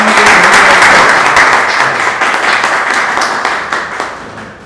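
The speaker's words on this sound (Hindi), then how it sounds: "थोड़ा सा तालियां बजाते रहिए।" An audience at a music audition event claps loudly as a guest is welcomed on stage, dense applause that starts strong and slowly tapers off.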